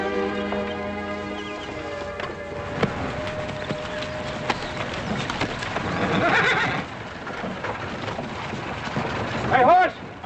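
A horse whinnies loudly near the start, followed by hooves clip-clopping and rustling movement, with a brief snort or second whinny near the end.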